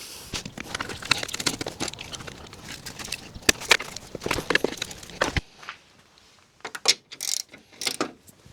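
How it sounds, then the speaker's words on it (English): A ratchet tightens bolts through the front slant panel of a wrecked Honda Civic into the reinforcement bar. It makes bursts of close metallic clicking and clattering, then a quieter gap, then a few short, sharp ratcheting spurts near the end. "I'm just gonna put some bolts through the slant panel into the sort of reinforcement bar"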